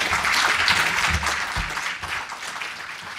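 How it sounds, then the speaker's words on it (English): Conference audience applause at a European machine-learning event, a sustained crowd of clapping hands with some low voice murmur underneath, gradually thinning. "A good round of applause for Chris."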